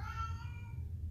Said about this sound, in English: And that is our cat Louie joining us in praise